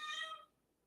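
A single short cat meow, near and fairly faint, fading quickly into quiet.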